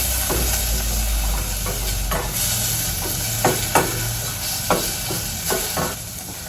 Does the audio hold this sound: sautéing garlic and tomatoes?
yes